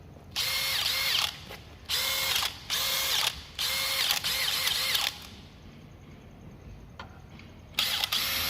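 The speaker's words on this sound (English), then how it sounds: "I test drilling metal." A Makita 40V Max hammer drill with a cobalt bit drilling into metal, its loud whining motor running in several bursts of about a second each, separated by brief pauses, close up.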